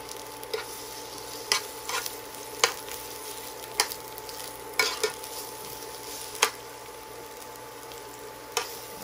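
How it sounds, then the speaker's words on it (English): Food sautéing in a pan, a steady soft sizzle punctuated by repeated sharp clacks of a utensil stirring and scraping, close and without talk. "We will just saute them for like 30 seconds."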